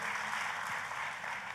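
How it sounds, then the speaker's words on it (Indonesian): A church congregation applauds during a worship service, producing a dense, steady wash of clapping that stays fairly faint and unbroken throughout. "Kita kasih tepuk tangan yang paling meriah buat Tuhan kita."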